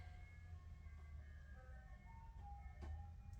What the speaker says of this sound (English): I think that's the ice cream truck.